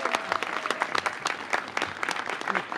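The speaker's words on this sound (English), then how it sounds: "Give him a big round of applause." Crowd at a library opening in Washington, D.C. applauds, a continuous wash of many hands clapping at mid distance, steady and unbroken for a few seconds, with no speech on top.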